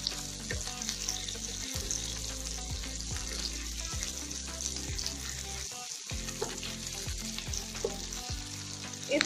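Carrots fry in a pan, giving a steady close sizzle broken by repeated stirring clicks and a short pause partway through.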